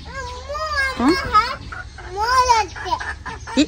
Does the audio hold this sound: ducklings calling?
yes